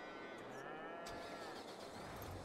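Cattle on a farm in Farming Simulator 22 give drawn-out moos, faint and somewhat distant, over low background hum.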